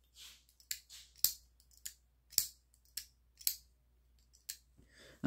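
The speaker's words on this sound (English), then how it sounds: "This has a lot of tape, so it's going to be harder to cut" A Kizer Amicus folding knife slicing through a heavily taped package, close and crisp: a series of about ten sharp ripping and crackling cuts in an uneven rhythm, separated by short pauses.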